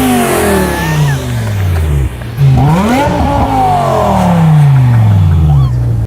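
Engines of older BMW M cars rev hard inside a recording studio, pitch sweeping up and down through loud, sustained blips with a brief dip near the two-second mark.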